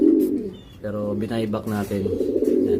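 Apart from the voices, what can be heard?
racing pigeons cooing in a loft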